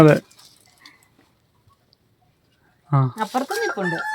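A short fowl call opens, then silence, then a voice speaks over a rooster-like crow near the end.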